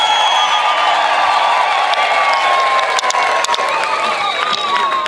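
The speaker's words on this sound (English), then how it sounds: "May the congregants join me in ululating, clapping, blowing whistles in congratulating the Diocese of" Church congregation in Matabeleland breaking into loud, sustained applause and cheering, with ululation and whistle-like tones riding over dense clapping throughout.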